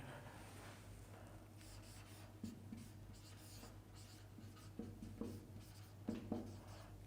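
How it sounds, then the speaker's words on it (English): A pen moves over paper as an algorithm is written out by hand, a faint, close scratching in short irregular strokes over a quiet room hum, with no talk. "Let me write the algorithm, then I will trace the algorithm."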